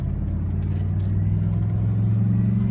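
A 2004 Chevy Silverado truck with a liftgate accelerates on a short stretch of road, its engine a steady, loud low drone heard from inside the cab, rising slightly in pitch.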